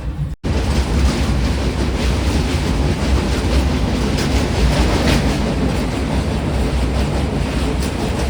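A superfast express train on the Visakhapatnam to Mahabubnagar line rumbles along the rails in a steady, loud, continuous roar from on board, with faint rhythmic clickety-clack running through it.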